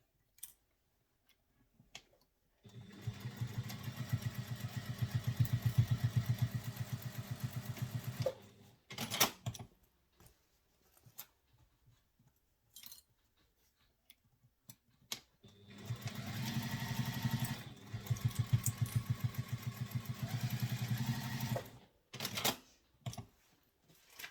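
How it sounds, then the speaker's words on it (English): A sewing machine stitches a handbag seam in two long, steady runs of rapid mechanical clatter, separated by a pause with scattered small handling clicks, close and alone without talk. "Now you sew it using the seam allowance given in the pattern"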